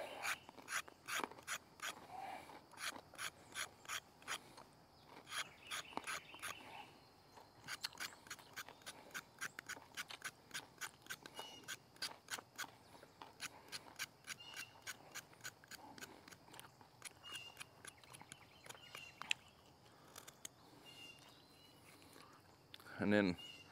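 A knife blade scrapes the skin of a big home-grown carrot in quick, steady rasping strokes. The scrapes repeat close and fairly faint through most of the stretch, with brief pauses between runs.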